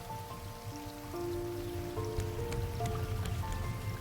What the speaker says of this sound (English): get through this night and maybe get through the rain